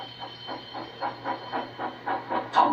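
A steam train sound effect for a Thomas the Tank Engine story chuffs in a steady, rhythmic series of about ten puffs over a constant low hum, ending in a short hiss.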